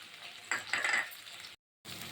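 A spatula scrapes and stirs eggplant gravy with chili powder in an oiled pan over a soft sizzle. The stirring comes in a few quiet, close strokes, followed by a brief silence.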